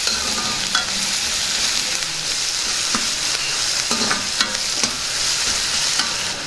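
Fried rice stirred and tossed in a hot pan with salt and coriander, a steady broadband sizzle with scraping spatula strokes every second or so, close and fairly loud, no talking.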